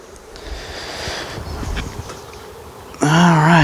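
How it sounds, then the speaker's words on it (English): Honeybees in a hive being opened while a nuc is hived after smoking: a steady, close buzzing drone that swells slightly, then gives way to a sudden louder, higher-pitched whine at the end. "Man, that's a lot of buzzing."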